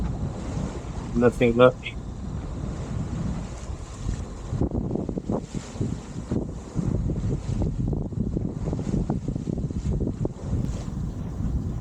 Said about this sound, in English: The wind's beginning to fill in now, so hopefully we can get under sail and get the mainsail sorted. With a bit of swell.